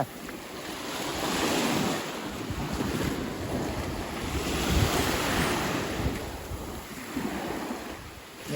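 Sea waves wash continuously onto a beach in front of a temple at Tung Wimarn, rising and falling in soft surges under strong wind buffeting the microphone.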